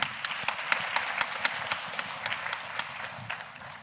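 Amphitheatre audience at a community testimony event clapping steadily, a dense spread of hand claps that stays fairly quiet and even for the whole stretch.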